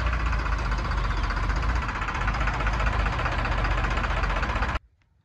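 A New Holland 3630 turbo tractor engine runs at a steady loud rumble with a knocking diesel throb, close by, then cuts off abruptly near the end.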